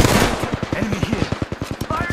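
Rapid automatic gunfire from the video game Apex Legends rattles in one loud, close, continuous burst of fast shots lasting about two seconds.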